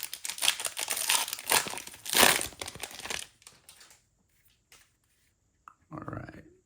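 A 2024 Bowman Draft baseball card pack tears open with loud, close foil crinkling and ripping for about three seconds, then goes quiet, followed by a brief rustle of cards.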